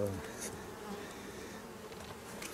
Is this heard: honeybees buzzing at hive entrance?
yes